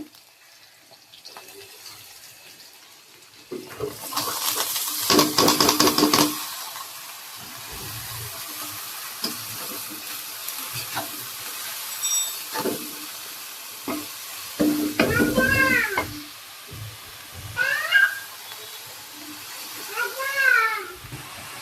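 Vegetable bhaji sizzles in a pan and is stirred, with scraping and splashing bursts over a soft frying hiss, under intermittent talk.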